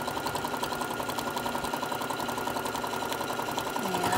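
Sewing machine stitching layers of a kitchen hot pad, a fast steady mechanical chatter running throughout at a fairly quiet level.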